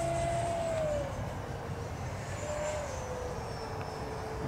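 An RC model Avro Vulcan jet flies past with a steady whooshing turbine roar and a tone that slides down in pitch, fairly near and continuous throughout, with no voices.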